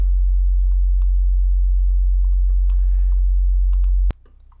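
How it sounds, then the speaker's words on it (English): A simple sine wave test tone played through an audio saturation plugin, a loud steady low hum running without a break for about four seconds, then cutting off abruptly into faint residual noise. "I do have another piece of audio that I can play, and that is a simple sine wave."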